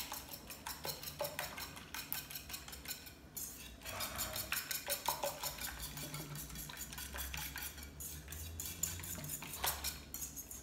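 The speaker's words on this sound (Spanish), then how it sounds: "Batimos bien." Eggs with seasoning beaten briskly in a bowl for a potato tortilla, the fork or whisk clicking and sloshing in a quick steady rhythm, close and fairly quiet, with no voices.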